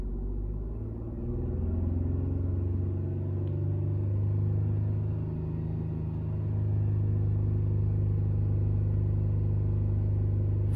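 A car engine, monitored for mass airflow and fuel trims, runs with a deep, steady rumble that rises in pitch as it is held near 4,000 RPM, then settles back toward idle.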